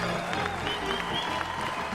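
A crowd applauds cyclist Mark Cavendish at a race stage finish in Blackpool, steady dense clapping with cheers, loud and continuous throughout.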